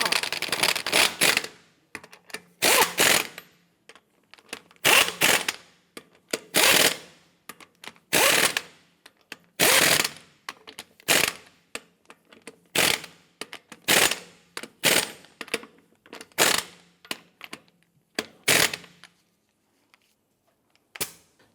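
A ratchet snugs down lug nuts on a 2015-2020 Cadillac Escalade wheel, giving repeated bursts of sharp, rapid clicking separated by short pauses, close and fairly loud.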